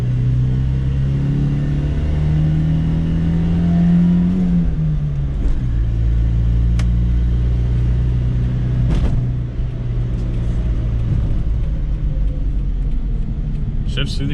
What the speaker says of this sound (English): Shifts through the gears super smooth